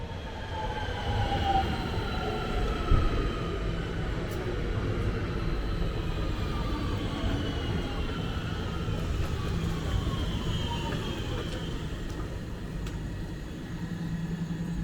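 A train rolls past on the rails at close range, a steady loud rumble of wheels with high squealing tones drifting through it across the whole stretch, and no voices.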